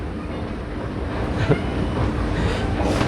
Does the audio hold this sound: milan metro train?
yes